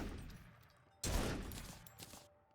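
A newly acquired gun firing in Terraria with the Calamity Mod, a burst of rapid shots that starts abruptly and fades out over about a second, set against quieter game sounds.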